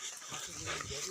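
A brief, faint dog whimper or yip, close by and quiet, with a voice murmuring in the background.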